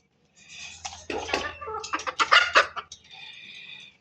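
Desi hens and a rooster squabble at feeding time with close, loud clucks and sharp squawks in quick bursts. A softer, drawn-out call trails off at the end.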